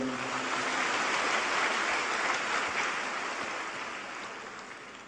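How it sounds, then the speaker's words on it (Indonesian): An audience at an Islamic religious lecture claps in a steady, dense wash of applause that fades slowly toward the end, with no talking over it. "Sekali lagi kita berikan aplaus buat beliau berdua."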